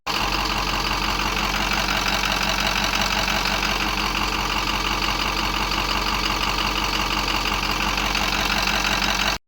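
A 6.0 diesel engine idling rough with the number 3 injector stuck open, giving a loud, steady knocking clatter in an even, uneven-firing rhythm that continues unbroken until it cuts off at the end.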